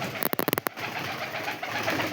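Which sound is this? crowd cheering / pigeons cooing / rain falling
pigeons cooing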